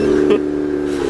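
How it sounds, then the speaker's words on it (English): A Mazda RX-8 rotary engine with an aftermarket exhaust idles right after a cold start on a cold day, giving a steady, close, droning hum with a brief blip partway through. "Let's get a cold start on the Rx8 because it's actually cold now."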